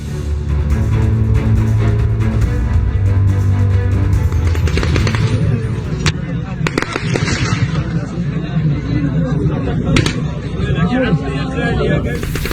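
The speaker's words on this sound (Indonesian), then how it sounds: "Warga Gaza harus berlindung menghindari hujan tembakan yang dikeluarkan tentara pendudukan Israel saat antre bantuan kemanusiaan" Gunfire at Gaza civilians queuing for humanitarian aid, bursts of sharp shots and rapid cracks over crowd noise and shouting voices, loud and near, with people talking and calling out throughout.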